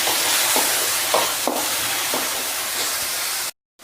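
Soy sauce hits cauliflower fried rice in a hot pan, a continuous loud sizzle and steam hiss punctuated by a few scraping stirs, ending abruptly in a brief gap of silence.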